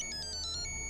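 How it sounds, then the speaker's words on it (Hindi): A phone ringtone chirps in a rapid, evenly pulsed electronic pattern, loud and close, filling the whole second with a steady hum beneath it. "sir phone"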